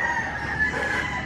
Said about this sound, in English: Ton of roosters back in here. You can just hear them.